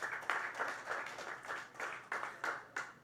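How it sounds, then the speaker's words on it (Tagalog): A church congregation claps for the Lord, a faint distant patter of hands in loose bursts about every third of a second, with no voices over it. "Pumalakpak ka nga kay Lord."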